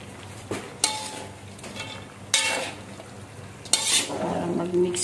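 A utensil stirs and scrapes through vegetables for Filipino lumpia filling in a pan, with soft sizzling underneath and sharp clinks of metal on the pan every second or so, close and fairly loud.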